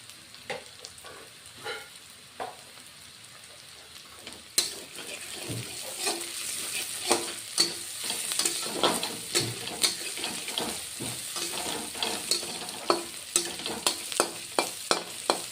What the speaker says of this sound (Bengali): কালো জিরো জিরে ফোড়ন দিচ্ছি